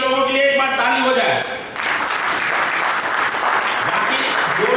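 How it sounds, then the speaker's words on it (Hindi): An audience seated in a hall breaks into applause after brief tonal sound at the start, the clapping rising and holding as a broad, continuous patter to the end. "एक बार इन लोगों के लिए एक बार ताली हो जाए।"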